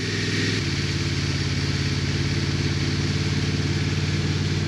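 A Honda motorcycle rides a dirt service road on a rainy day, its engine note steady and loud throughout, with a brief change in tone near the start.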